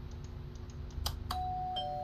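A doorbell chime sounds in the horror video game Koshmar, a short bright ding then a sustained tone after a few soft clicks, clear and close with no talk.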